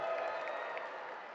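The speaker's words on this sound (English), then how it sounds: "everyone cheer for Johnny Jensen" An audience at a live Dead Wars event claps and cheers, a soft, steady wash of applause and crowd noise heard from some distance, with no clear speech.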